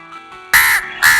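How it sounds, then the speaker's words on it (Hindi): A crow caws twice, loud and close, with two harsh calls separated by a short gap and a faint tonal background before them. "पिताजी, वो कौवा है।"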